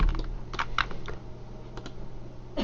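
Keyboard taps and mouse clicks while modeling in Blender, a handful of sharp, close clicks in quick irregular clusters over a quiet background hum.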